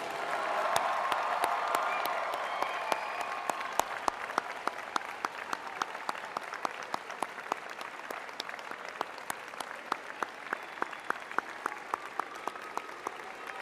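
Audience of friends, family, faculty and staff applauding the graduating class at a university spring convocation ceremony, a broad wash of clapping that swells early then thins into scattered, distinct claps.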